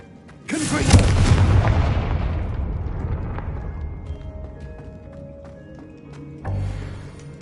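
A Confringo fire spell explodes in Hogwarts Legacy with a loud booming blast that rumbles and slowly decays over several seconds, followed by a second, smaller thump near the end.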